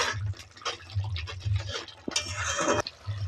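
Salt and turmeric powder stirred into a hot pan, a steady close scraping and rustling of utensil against metal with soft sizzling underneath, continuous and moderately loud.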